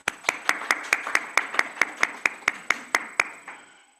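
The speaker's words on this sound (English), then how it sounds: "Again, round of applause." Sparse, evenly spaced hand claps from a small audience at a publishing talk, about a dozen crisp beats in a steady rhythm before tapering off.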